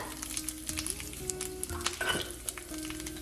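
Mustard seeds frying with chili powder in hot oil in a pan, a steady close sizzle with faint popping crackles throughout.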